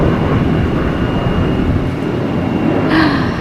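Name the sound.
airplane flying overhead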